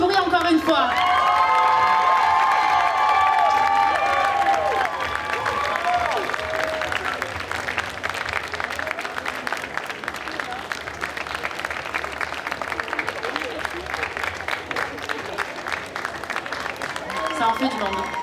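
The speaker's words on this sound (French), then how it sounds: "C'est le moment de prendre des photos, d'applaudir et de faire du bruit encore une fois." Crowd at a geek convention cosplay parade in Roanne applauding, cheering and whooping, with a loud announcer voice speaking over the start before the steady clapping and shouts carry on underneath.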